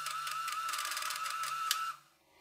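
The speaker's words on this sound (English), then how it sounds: "The hash key is, it prints a label on the printer." A Casio P2-D financial calculator's built-in printer chatters steadily as it prints a label, a rapid mechanical buzz with a whining tone, then stops abruptly near the end, with no talk.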